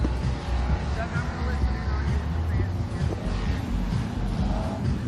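Eight-cylinder stock cars pace a lap at The Big O, their engines giving a steady, fairly distant rumble through wind noise, with faint talk over it.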